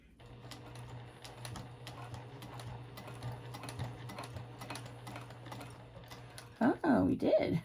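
A sewing machine stitching the lining of a zipper pouch, running in a steady rapid mechanical clatter with a low motor hum, then a voice speaks near the end.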